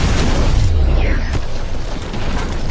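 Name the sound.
explosion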